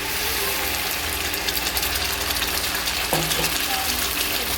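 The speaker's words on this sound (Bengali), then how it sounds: "তো মশলাটা দিয়ে কিছুক্ষণ আমি কষিয়ে নেব" Onions sizzle and fry with a ground paste of onion, chilli, garlic, cumin and coriander in a pan. The hiss is steady and close and carries on throughout, with a brief clink of stirring near the end.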